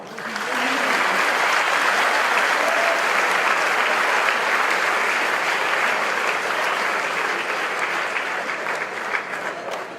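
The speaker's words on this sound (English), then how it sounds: "Please join me in a round of applause for her." Sustained applause from a large audience after a lecture, loud and steady throughout with no break.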